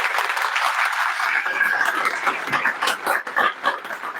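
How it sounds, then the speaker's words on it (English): Audience at a Mumbai alumni meet applauding to welcome a speaker to the stage, a steady patter of many hands clapping at moderate distance, sustained for the whole stretch without voices. "let us welcome him with a big round of applause"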